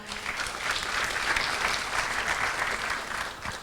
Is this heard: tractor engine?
no